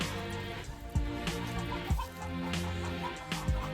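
Newly arrived roosters and chickens in a backyard pen, with several nearby clucks and short calls at irregular intervals over a low background hum.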